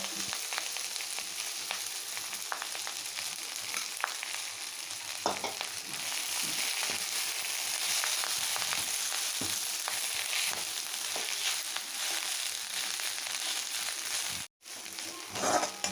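Ponnanganni greens fry in oil, giving a continuous soft sizzle with occasional light stirring clicks that runs steadily for the whole stretch, cutting out briefly near the end.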